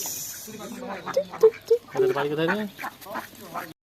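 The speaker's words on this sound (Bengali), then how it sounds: "এই যে হাঁস" Duck quacks in a short run of three nasal calls, then a longer call, heard close over a background of people talking.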